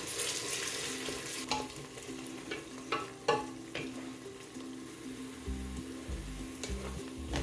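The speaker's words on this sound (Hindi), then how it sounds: "2 प्याज जो कि हमने बारीक स्लाइसिस में कट करके रखे हुए हैं वो हम इसमें शामिल कर देंगे और इनको ब्राउन होने तक हम फ्राई करेंगे।" Finely sliced onions frying in oil in a pan for masoor pulao, a steady close sizzle broken by several sharp clinks and scrapes of stirring, with no talking.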